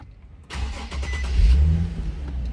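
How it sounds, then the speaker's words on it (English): Nissan 370Z cranks and fires up after a killswitch is released, a sudden start that swells into a brief rev and settles into a steady idle, close and alone with no talk. "and then the car will crank right up."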